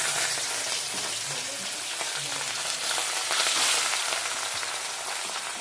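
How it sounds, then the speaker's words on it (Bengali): Marinated katla fish pieces sizzle and crackle in hot oil in a kadai, a steady dense frying hiss with small pops and spatters throughout, close and fairly loud, with no talking. "এবার কড়াইতে দিয়ে দেব তেল এবং সেখানে মাছগুলো প্রথমে হালকা ভাজার জন্য ছেড়ে দেব।"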